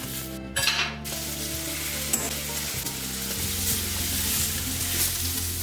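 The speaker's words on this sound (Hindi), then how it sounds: "अब इसमें हम डाल देते हैं टमाटर के टुकड़ों को" Tomato pieces with salt sizzle in hot spices for rajma masala, a loud, steady, close frying hiss that follows a brief clatter as they drop into the pan.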